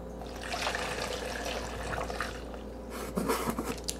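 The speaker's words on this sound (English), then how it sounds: "We're going to put in 2 cups of water." Two cups of water are poured into a blender for a green smoothie, making a soft, steady trickle and splash that ends in a brief burst of louder sloshing, close by with no talk.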